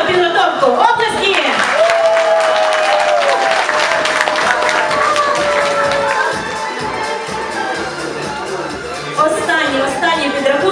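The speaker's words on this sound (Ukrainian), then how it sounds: "я хочу, щоб ви ще раз бурхливими оплесками подякували їм за їхню гарну підготовку. Оплески!" A hall audience applauds student contest participants at a student-of-the-year event, sustained loud clapping with some cheering and crowd chatter, while a voice talks over it.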